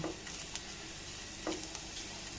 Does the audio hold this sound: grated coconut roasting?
yes